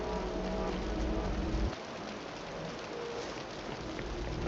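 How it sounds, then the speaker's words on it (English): Heavy rain pours steadily in the Wuthering Waves game world, a dense hiss with a low rumble that drops away partway through while the downpour continues. "The rain's getting heavier."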